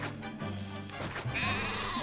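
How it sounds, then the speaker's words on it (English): Sheep in a video game bleat several times in quick succession, wavering cries over a soft game background with a brief higher-pitched tone near the end. "Time to kill the sheep."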